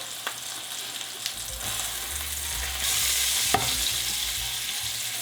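A steak sizzles steadily in a frying pan, a dense continuous hiss that swells louder partway through, with a few faint clicks and scrapes and no voices.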